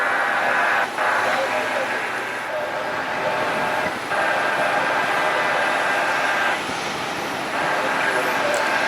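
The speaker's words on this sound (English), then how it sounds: "The Bonanza is the aircraft that's taking off." A Beechcraft Bonanza light aircraft takes off at Cleveland airport, its engine a steady distant drone under broadband airport noise, with occasional short dips in level.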